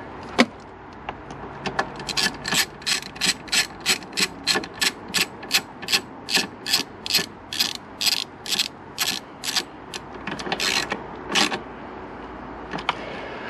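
Ratchet tightening an airbox bolt on a Mini R50 engine bay, a steady run of about twenty-five crisp, evenly spaced clicks, close and loud, with no talking.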